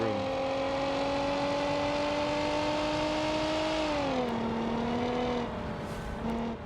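A space taxi's engine in a video game, a continuous tonal whine whose pitch holds steady, then dips and settles lower, close and constant throughout.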